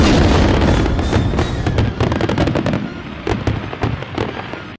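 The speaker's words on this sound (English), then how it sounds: "Most people, when they think of fireworks, think of the sky exploding." Fireworks crackle and bang in a dense, loud barrage, many rapid pops layered over a rumbling roar that thins out toward the end.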